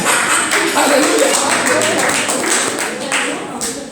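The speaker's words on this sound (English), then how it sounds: "Can we give God a clapping offering?" A church congregation claps together in a dense, continuous patter that stays fairly loud and steady, with a voice speaking over the applause.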